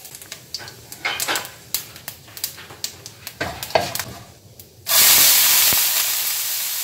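Dried red chillies and whole cumin seeds crackle and pop in hot oil in a kadai, a run of sharp close spits that gives way to a loud, steady sizzle as more goes into the pan.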